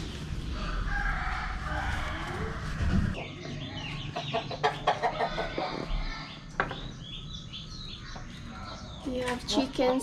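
Chickens cluck and a rooster crows at a Vietnamese family home, the calls close and fairly loud in short bursts, with other farm birds and occasional voices talking nearby.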